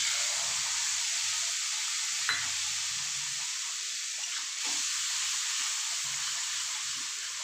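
Spice paste mixed with a little ginger hits a hot pan, giving a steady, soft hiss of sizzling that stays even throughout, with no voices.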